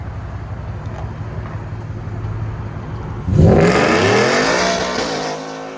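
A Whipple supercharged Ford F-150 with a 5.0L V8, long-tube headers, no catalytic converters, two Borla S-type resonators and Black Widow 3-inch dual mufflers idles with a low rumble, then snaps into one loud sustained rev that slowly tapers off.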